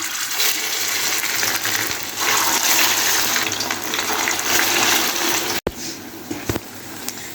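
Shami kababs made with boiled rice sizzle as they shallow-fry in a pan, a loud, dense, steady crackling hiss with a brief break and a few pops near the end.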